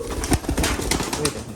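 Coos from pigeons, including a black male dobaj pigeon, come in several short low pulses over a noisy, busy loft, with broadband clatter and possible wing flaps close by.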